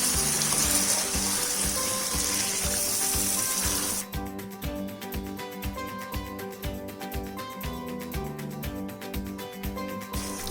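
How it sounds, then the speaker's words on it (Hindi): Tomatoes, green chilies, dried plums and water are added to a sizzling pot for Sindhi biryani; a loud watery sizzle gives way after a few seconds to rhythmic stirring and scraping, with a steady beat running beneath. "अब इसमें मैं टमाटर डाल देती हूँ, हरी मिर्च, आलू बुखारा, थोड़ा सा पानी है साथ ही में डाल देते हैं और इसको मिक्स कर देते हैं"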